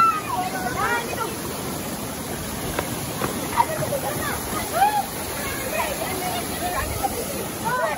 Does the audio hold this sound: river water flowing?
yes